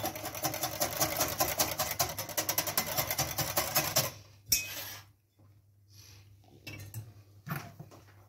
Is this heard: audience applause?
no